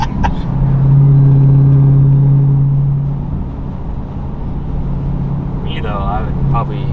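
A 2023 Dodge Durango Hellcat with a muffler delete holds a deep, loud exhaust drone that swells and then settles to a steady rumble, with brief voices breaking in near the end.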